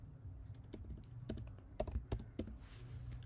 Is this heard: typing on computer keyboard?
yes